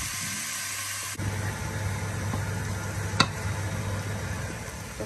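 Onion, garlic, ginger and coriander sear in a pan for a Kenyan tripe and spinach dish, giving a steady close sizzle with a faint stir click partway through.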